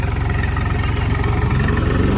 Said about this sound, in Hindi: तो यहाँ पे एक ट्रैक्टर खींच रहा है।